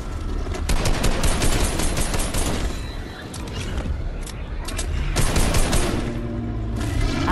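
Sustained automatic gunfire from a video game battle against the caretaker, loud bursts of rapid shots with a short lull near the middle before firing resumes heavily.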